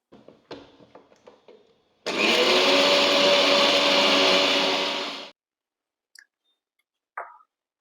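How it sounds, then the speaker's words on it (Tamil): A kitchen mixer grinder blends spice paste with a little water for a Kochi-style egg curry, starting abruptly into a loud steady roar for about three seconds, then cutting off, with small clicks before and a brief rattle after. "இத மூடி நைஸா அரைச்சி எடுத்துக்கலாம்."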